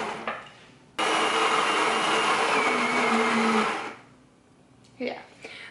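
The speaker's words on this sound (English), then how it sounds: "So I hit espresso twice. And it makes two shots of espresso." An espresso machine pulls two shots of espresso straight into a mug at home, a loud steady pump drone running about three seconds before cutting off, with brief clicks and handling noises after.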